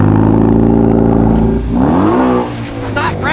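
Supercharged Dodge Viper truck engine revving hard close by, a loud rising and falling roar with a sharp throttle sweep midway, and voices talking faintly underneath.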